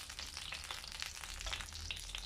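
Onions frying in a pan for a Lebanese chicken moghrabieh dish, a soft continuous sizzle with crackly bursts, fairly quiet and close, no talking.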